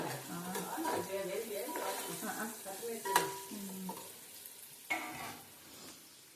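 Onions frying and being stirred in a pan while cooking biryani: a steady sizzle with scraping stirs and a couple of sharp utensil clinks, under someone talking nearby.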